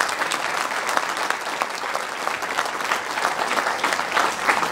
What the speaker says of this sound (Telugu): ఒకసారి అమ్మ కోసం గట్టిగా చప్పట్లు కొట్టండి